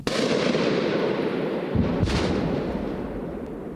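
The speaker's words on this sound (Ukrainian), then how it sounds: "Звуки вибухів між деревами беруться ехом, і здається, що лунають звідусіль" A heavy blast booms close by in the Serebryansky forest during combat, then a second explosion follows, each trailing into a long rolling echo through the trees that lingers.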